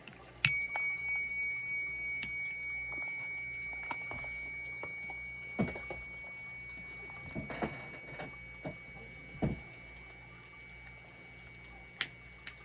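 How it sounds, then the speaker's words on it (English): A small bell is struck once, sharply and clearly, and its bright tone rings on and slowly fades, followed by scattered faint taps and ticks in a quiet room. "Let's ring the bell."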